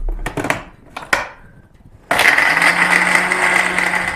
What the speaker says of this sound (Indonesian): Oke, kita blender dulu.